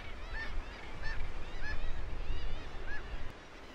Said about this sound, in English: Chicks will peck at the beak of their parents and loudly call out, indicating their need for food.